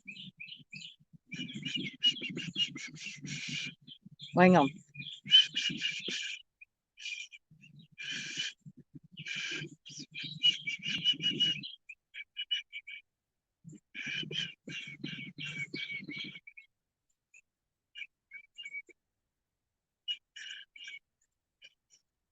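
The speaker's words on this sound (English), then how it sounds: "I hear you, birds." Birds chirp and call repeatedly outdoors beside a lake near an airport, bright trills coming in bursts with short gaps, and a brief voice speaks once partway through.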